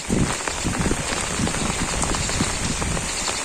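Rain falling on a village on a rainy day in wetland country, a dense continuous patter with scattered nearer drips, steady and fairly loud throughout.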